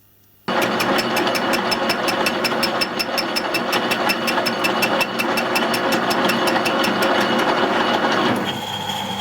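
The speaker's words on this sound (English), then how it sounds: "all I'm going to do now is machine this flat on in 2 stages" Metal lathe taking an intermittent cut on an offset-chucked steel coupling rod for a small steam locomotive, machining a flat: a loud, close, rapid regular ticking knock over steady motor drone, stopping near the end.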